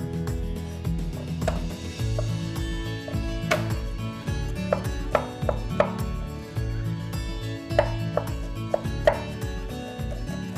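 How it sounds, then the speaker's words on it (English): A knife chops a single garlic clove on a board in a steady series of crisp, close taps with short pauses, over a low continuous background hum. "I also have 1 clove of garlic. This needs to be chopped to be sautéed."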